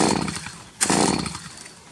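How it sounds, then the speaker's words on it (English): Hedge trimmer cutting a garden hedge, a loud, continuous buzzing motor with a short surge of higher-pitched cutting partway through. "So we're gonna use a hedge trimmer for it."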